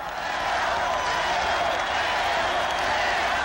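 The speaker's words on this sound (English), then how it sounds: "Royal fans initial a cheer in the seventh" A big stadium crowd of Kansas City Royals fans roars and applauds during the seventh inning of the 1980 World Series, a steady, dense wash of cheering heard from within the stands.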